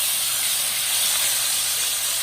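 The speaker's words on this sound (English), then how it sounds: "We're gonna go in and we're gonna flip this steak over now." A steak sears in a very hot pan over medium-high heat right after being flipped, a loud, steady, broadband hiss of sizzling fat that holds unbroken from start to finish, with no talking.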